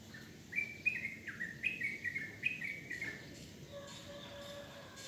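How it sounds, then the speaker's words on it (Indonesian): A wild bird sings in the morning outdoors, giving a run of quick, bright chirping phrases over a few seconds, fairly close, with a steady background of crickets and insects buzzing underneath. "Burung liar ini kan ya suka gacor ya."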